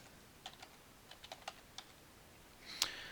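Keys tapped on a computer keyboard in a handful of light, irregular clicks, then one sharper louder keystroke near the end, close and otherwise quiet.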